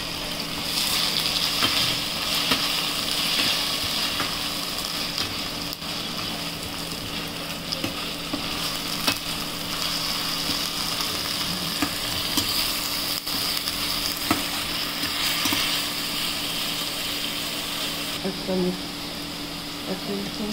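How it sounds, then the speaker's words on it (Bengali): Onion paste frying in a pan for a katla fish curry, giving a steady loud sizzle with faint stirring scrapes throughout and no talk. "আমরা পেঁয়াজ পেস্টটা দিয়ে দিলাম, এখন এটাকে নাড়িয়ে চালিয়ে দিতে হবে"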